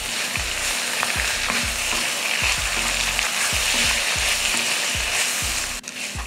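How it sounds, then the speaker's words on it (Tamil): Mint and coriander leaves sauté in a pan with a steady sizzle, broken by regular spatula scrapes and taps in a quick repeating rhythm, close and fairly loud. "புதினா மல்லித்தலை போட்டு லைட்டாக வதக்கிக்கிட்டால் போதும்."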